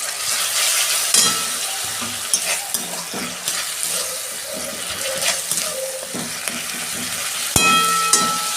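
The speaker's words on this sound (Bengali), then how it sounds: "আদা রসুনের পেস্ট দিচ্ছি।" Ginger garlic paste hitting a pan of fried onions sizzles and crackles continuously, with scraping stirs and clinks of a utensil against the pan throughout.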